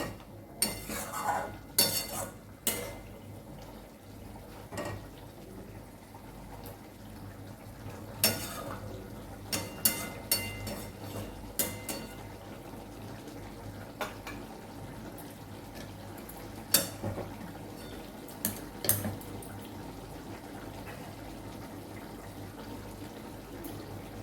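A spice bowl is rinsed and its water poured into a homemade chicken curry in a kitchen. Sharp metal and ceramic clinks and clatters come at irregular intervals over a soft running water wash.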